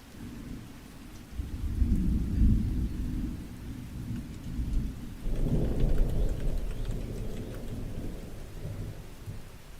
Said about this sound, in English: I guess you could rave to like thunderstorms